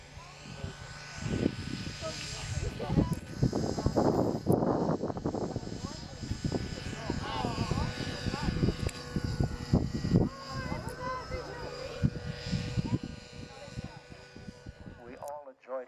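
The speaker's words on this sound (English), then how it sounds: "Bet you didn't know helicopters could fly upside down." A helicopter performing inverted flight at an air show rally drones steadily in the distance with a buzzing engine and rotor tone throughout, while people talk over it.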